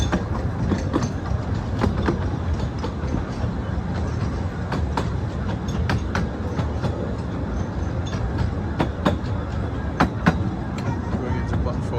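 Ravenglass and Eskdale Railway locomotive River Esk runs into the platform at a centenary event. A steady, loud rolling rumble continues throughout, with sharp clicks and clatters scattered over it.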